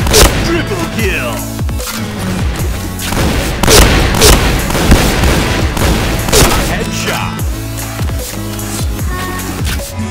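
Grenade blasts and rapid gunfire in the shooter game Point Blank, a dense barrage of loud booms and cracks packed closely together, with announcer voice lines mixed in.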